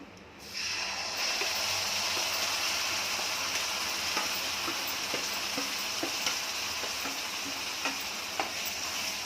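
Ground spice paste hits hot oil in a frying pan, setting off a loud, steady sizzle that holds for several seconds, with occasional scraping taps of a spoon stirring.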